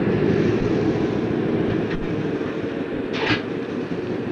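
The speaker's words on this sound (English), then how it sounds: "He's released the brakes. We're backing off slightly here." A CPR train on the Rossland line in 1966 backing slowly after brake release, with a steady low rumble of rolling stock and a brief hissing air burst partway through.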